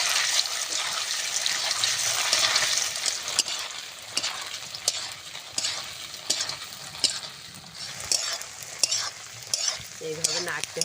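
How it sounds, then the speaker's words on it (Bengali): Paneer cubes fry in hot oil, a loud continuous sizzle broken by repeated stirring scrapes and taps of a spatula against the pan, close and without talk. "তেলটা গরম হয়ে গেছে, পনিরটা দিয়ে ভেজে নেব।"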